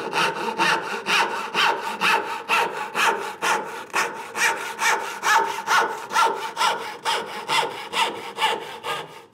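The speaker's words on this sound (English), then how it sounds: "you can cut the sides of the tenon first if you want to" Hand saw cutting the cheeks of a wooden tenon at a workbench, steady rhythmic rasping push-and-pull strokes, about three per second, close and loud with no talking.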